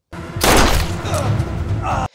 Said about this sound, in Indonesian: Adu tembak sempat terjadi dan Roscoe berhasil menembak kaki salah satunya.